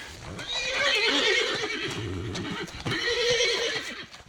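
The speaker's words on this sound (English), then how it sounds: "it wound up being largely a stud horse that was having the semen taken from it" A stud horse whinnies loudly and close during semen collection, two long, shrill, wavering neighs one after the other with a brief break between them and no one talking.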